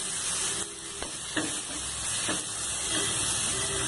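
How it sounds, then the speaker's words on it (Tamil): Tomatoes sautéing in a pan for radish chutney, an even close sizzle and hiss broken by a few spatula clicks and stirring scrapes, with no one speaking. "தக்காளி நல்லா வதங்கிடுச்சு எவ்வளோ நல்லா வதக்கிறோமோ அவ்வளோ டேஸ்ட் வரும் தக்காளியில்"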